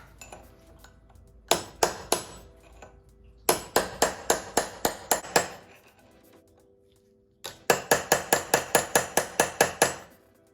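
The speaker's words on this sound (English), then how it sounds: "All you do is hit the rim of the nut to bend them in there." A hammer strikes the rim of a nut on a Mercedes 722.9 transmission to stake it in place. Three bursts of rapid, sharp metallic blows ring out close and loud, separated by pauses.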